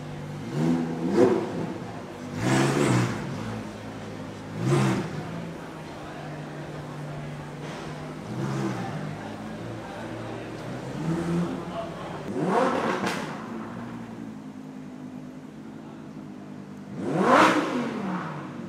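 Exotic and supercar gathering outdoors, where a car engine is revved repeatedly in short, sharp blips spaced a few seconds apart, fairly loud and near, over crowd background noise.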